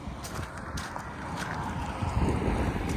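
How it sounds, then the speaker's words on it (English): Strong wind buffets and rushes steadily against the microphone outdoors beside a 2018 Ram 3500 truck, a loud continuous roar with gusty swells and no speech. "Wind's still blowing like crazy,"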